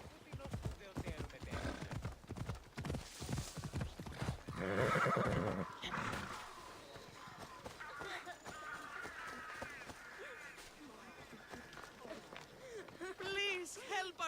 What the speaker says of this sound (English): I guess I picked the mountain horse after all.